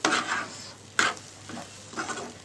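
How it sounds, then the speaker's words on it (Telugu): A spoon stirs fish egg fry with chili powder in a pan, giving a few separate scraping, rustling strokes with soft sizzle between them, close by and moderately loud. "ఇప్పుడు మంచిగా కలిపేసుకోవాలి"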